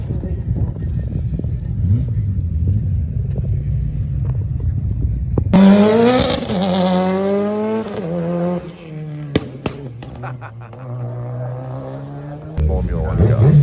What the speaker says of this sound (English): It looks like a rip-off Formula One car.